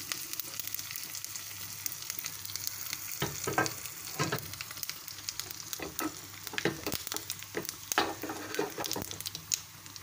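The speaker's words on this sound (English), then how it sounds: "Let them sizzle for few seconds only." Steady crackling sizzle of spices frying in hot oil, with scattered sharp pops and spits, fairly close and alone.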